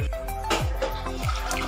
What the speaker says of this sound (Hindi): अब हम एक बर्तन में 2 कप पानी डाल देंगे